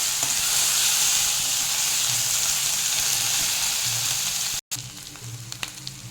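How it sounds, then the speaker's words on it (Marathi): Coarsely ground masala sautéing in a pan with asafoetida, a steady close sizzle and hiss with light stirring scrapes, one brief dropout near the end. "आणि इथे जो आपण हा मसाला वाटला होता असा जाडा भरडा तो इथे घालायचा. परतून घेऊया."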